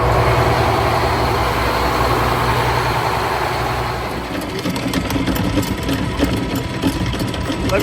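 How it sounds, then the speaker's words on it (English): The twin engines of a 65-foot boat idle loudly and steadily, a dense low rumble with a mechanical chatter, close by and dominating, with no talking. "Fired up both engines."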